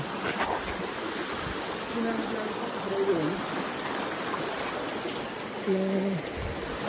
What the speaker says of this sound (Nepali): हामी चाहिँ खोला हिँडिरहेको छौँ है खोला आउँछ